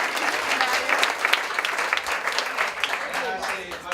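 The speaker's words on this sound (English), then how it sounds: "a big round of applause goes to the girls" A crowd applauds steadily and loudly throughout, many hands clapping together in a dense, sustained burst.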